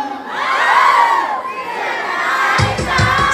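Concert audience screaming and cheering at a mini concert, a loud, sustained crowd roar with shrill high-pitched shrieks, continuing over rhythmic music thumping in near the end.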